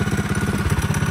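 A Tillotson 212 engine on a CT200u-EX minibike, governor deleted and fitted with a billet rod and flywheel, idles warm with a steady, fast, loud chugging pulse close by.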